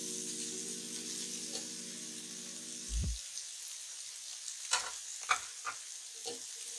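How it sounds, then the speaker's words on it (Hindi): Carrots and cabbage fried in a pan with a soft continuous sizzle, a low hum fading out early, then scattered spoon scrapes and clicks of stirring. "तमाम सब्जियों को 2 से 3 मिनट के लिए फ्राई करेंगे।"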